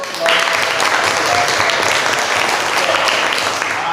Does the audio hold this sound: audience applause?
yes